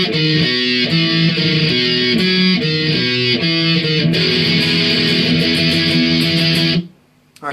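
Electric guitar plays a verse, bright and loud with steady strummed chord changes and a shifting bass-register line, running continuously before cutting off abruptly near the end.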